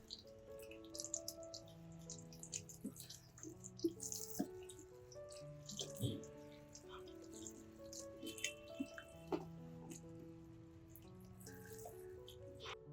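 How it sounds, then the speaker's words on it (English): Water runs and splashes quietly from a tap as an orchid's roots are washed, with soft dripping and trickling and faint background tones. "Then, wash it thoroughly under running water."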